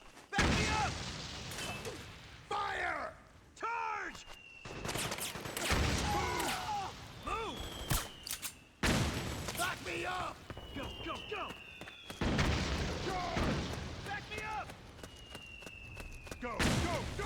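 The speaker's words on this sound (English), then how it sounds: "Who's shooting?" Gunfire bursts and explosions from the video game Metal Gear Solid 4, loud and repeated across the scene in intermittent volleys, mixed with shouting voices and battlefield commotion.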